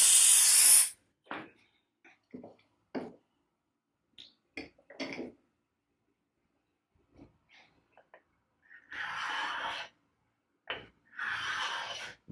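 Several short hissing bursts of aerosol spray, a strong one at the start and two longer ones later, separated by quiet rubbing and handling noises.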